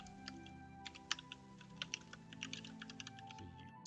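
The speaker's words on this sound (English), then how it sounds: "so I'm typing it anyway" Rapid clicking keystrokes on a computer keyboard come in irregular bursts, close and crisp, with a few louder taps standing out and no speech over them.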